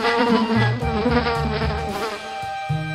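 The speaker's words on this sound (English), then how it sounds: "Fly." Housefly buzzing steadily and loudly at close range for about three seconds, a sustained droning hum with a wavering pitch and no voices.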